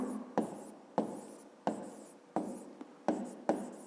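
A pen writes on paper in a math exercise, a series of about seven scratchy strokes, each starting sharply and trailing off, close up with no talk.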